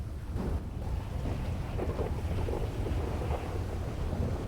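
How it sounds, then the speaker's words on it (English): Heavy thunderstorm rain in the NoPixel video game, a dense, steady roar of downpour with deep low rumbling throughout. There is no talking. "Oh my God, Jesus Christ, it's raining like crazy."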